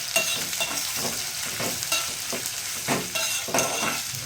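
Onions frying in a pan for mushroom biryani, a steady sizzle broken by repeated scraping strokes of a spoon stirring them, close and moderately loud.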